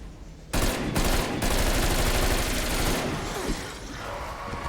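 Rapid automatic gunfire from Call of Duty Cold War Zombies, a loud sustained burst of rattling shots starting abruptly and running several seconds before easing off, with a brief gap early on.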